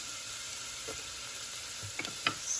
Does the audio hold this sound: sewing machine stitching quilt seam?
no